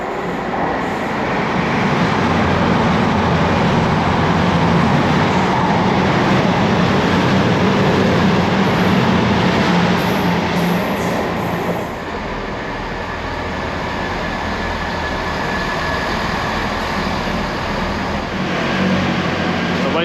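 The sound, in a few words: train departing Teignmouth for Newton Abbot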